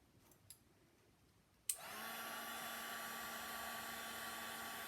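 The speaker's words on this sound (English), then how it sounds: "get my heat gun" After a couple of faint handling clicks, a heat gun switches on with a sharp click and blows a steady, whooshing fan hum, shrinking tubing over twisted dollhouse wires, close and continuous with no talk.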